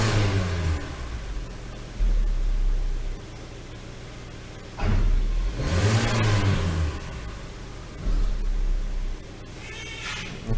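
A 2017 Hyundai Elantra engine in park, with a stalling and shaking fault, is revved three times in repeated bursts that rise and fall, settling back to a lower idle between them, close and fairly loud.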